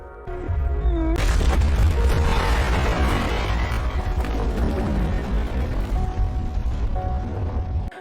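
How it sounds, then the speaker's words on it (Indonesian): A film explosion bursts in after a brief quiet lead-in, followed by a loud, sustained rumbling roar with throbbing low booms that persist for several seconds. "Saka berhasil lolos dari ledakan"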